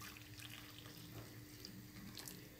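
Water poured from a bowl into a pot for couscous, a steady soft running and splashing, fairly faint and continuous with no talk.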